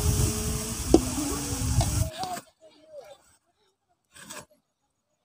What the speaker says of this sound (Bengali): পেঁয়াজটা ভাজা ভাজা হয়ে গেছে এবার আমি রসুনটা দিয়ে দিচ্ছি